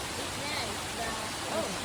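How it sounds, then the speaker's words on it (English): A waterfall in Darién National Park near Playa Muerto, Panama, heard as a steady, broadband rushing hiss of falling water, moderately loud and unbroken throughout. "All right, that was the waterfall."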